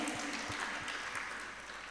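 Brief applause welcoming guests at a Jain religious discourse gathering, a quiet, distant-sounding patter of clapping from an audience lasting under two seconds.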